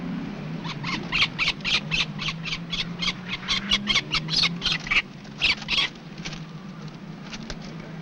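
Peregrine falcon fledgling being handled, giving a rapid series of harsh, close squawks in bursts, then a short pause before a few more calls.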